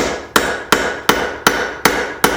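A hammer strikes hot metal at a steady pace while forging a candle holder, six sharp ringing blows spaced evenly, each ringing and decaying before the next, close and loud with no talking.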